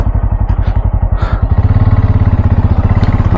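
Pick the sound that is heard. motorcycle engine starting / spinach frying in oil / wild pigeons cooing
motorcycle engine starting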